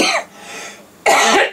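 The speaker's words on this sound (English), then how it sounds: "I'm deafening you all with my coughing" A person who has been sick coughs twice close to the microphone, a sharp burst, a brief raspy pause, then a second loud harsh cough.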